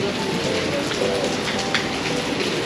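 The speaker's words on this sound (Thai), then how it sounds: "ตอนนี้ฝนยังไม่หยุดนะครับ" Steady rain falls at a hilltop viewpoint on Khao Phra Kru overlooking Si Racha, a dense, close, even hiss of drops on surfaces that continues unbroken with no voices.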